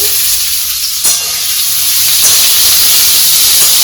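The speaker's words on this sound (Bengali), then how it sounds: "ফ্রাইড রাইস করা হচ্ছে।" Shrimp, rice and vegetables stir-fry in a hot pan, giving a loud, steady sizzle and hiss that runs throughout. A couple of brief scrapes from stirring break through, and nobody talks.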